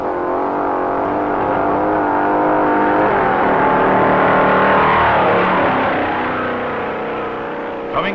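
Race cars roaring along the sand at the 1957 Daytona Beach race, a loud, continuous engine drone that swells to a peak as the cars pass and then gradually fades.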